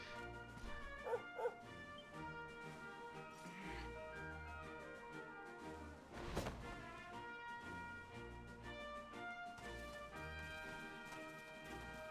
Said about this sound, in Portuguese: Parece o cachorro, tá ligado?